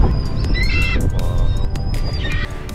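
A large wild bird calls on Lombok, giving loud, harsh squawking cries that repeat a few times over a steady outdoor background.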